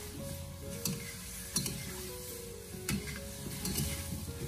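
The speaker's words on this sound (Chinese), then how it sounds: "我们直接的用铁锅先给它煎制一下，再煸炒，把鸭子中的水分还有油脂煸炒出来" Fresh duck pieces sizzle and fry in an iron wok without blanching, with steady close frying hiss and periodic scraping clinks of a spatula stirring the meat, loud and alone.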